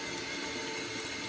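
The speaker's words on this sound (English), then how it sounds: "I tend to normally just turn the tap on" Water running from a kitchen tap in a home kitchen during cooking, a brief, steady, faint hiss of flowing water with no voices.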